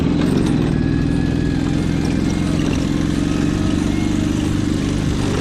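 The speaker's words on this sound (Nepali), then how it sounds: "त्यो साइलेन्सरभित्रै पानी पसेर त्यो आवाजै गरिरहेको क्या बाइकको" A motorcycle engine with water trapped in its silencer drones steadily and loudly up close on a road near Dhorpatan, Nepal, a rough, even low rumble that never stops and has no voices over it.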